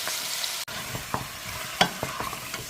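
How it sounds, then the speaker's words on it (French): A meat and vegetable sauce with beef and pork is stirred in a hot pan, a soft continuous sizzle broken by a few scraping spoon strokes and clunks against the pan, close by, with no voices. "on va venir bien mélanger tout ceci"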